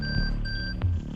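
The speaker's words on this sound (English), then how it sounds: "all make the Banshee hum with delight" Banshee gadget from Rainbow Six Siege giving off a steady electronic hum with high sustained tones, low droning layers and a short swell near the end, continuous throughout.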